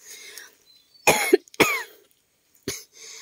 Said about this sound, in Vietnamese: Ho khạch khạch suốt rồi.